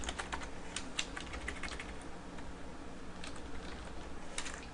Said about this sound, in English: so you can just start typing stuff